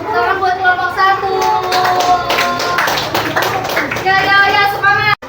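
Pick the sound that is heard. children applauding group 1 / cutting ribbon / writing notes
children applauding group 1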